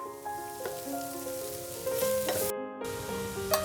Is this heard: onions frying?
yes